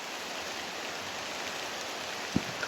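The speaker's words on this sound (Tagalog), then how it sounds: "Mas lumalakas na yung ulan." Heavy rain falls steadily at night in a rural outdoor spot, a dense, even hiss of drops across the whole clip, with a brief thump near the end and no talking.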